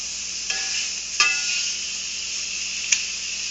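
A steak fries in butter in a pan with a steady soft sizzle, broken by a few brief clicks and scrapes as the meat is shifted around.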